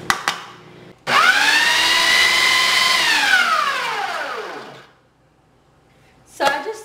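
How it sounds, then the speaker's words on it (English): A Ninja food processor chops microwaved peppers in a home kitchen: the motor snaps on loud and whines steadily for about three seconds, then spins down and fades, with short clatters before and after. "put them in my Ninja to chop them up finely"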